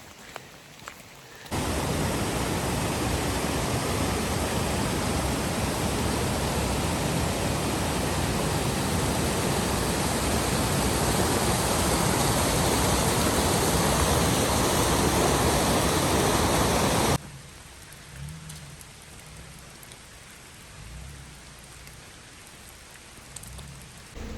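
Heavy rain pours steadily at a campsite, a loud dense hiss that starts abruptly and runs unbroken for about fifteen seconds, then cuts off to quieter ambient patter and faint background sounds.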